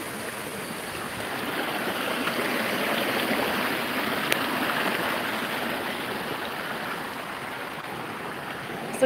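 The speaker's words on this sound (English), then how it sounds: "Look, baby, look, there's water." Water rushing steadily through a culvert, a dense, continuous broadband roar of flowing water with no voices, even in level throughout.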